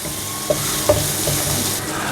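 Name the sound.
stirring and mixing Manchurian sauce ingredients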